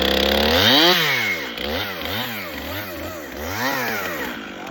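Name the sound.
chainsaw running after blade was reassembled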